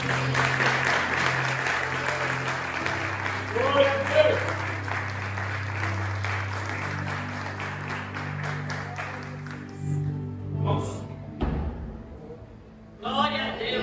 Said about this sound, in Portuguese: Você pode dar uma salva de palmas para o Senhor?